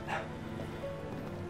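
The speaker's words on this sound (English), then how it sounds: "Sorry if you could hear my dog barking in the back." A dog barks in the background of a room, a short bark at the start followed by a muffled, continuous noisy wash, with no talking.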